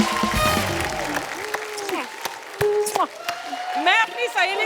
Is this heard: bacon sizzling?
no